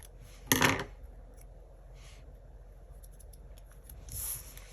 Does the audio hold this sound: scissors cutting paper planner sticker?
yes